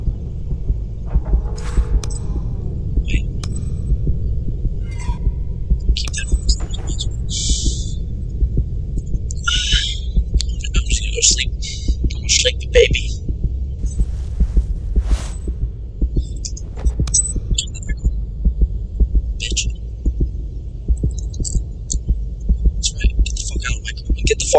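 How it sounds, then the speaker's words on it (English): A steady throbbing heartbeat plays through a tense moment in the horror video game The Joy of Creation, low and continuous beneath scattered bursts of hiss and game noise, with faint speech in the background. "Why is there a heartbeat?"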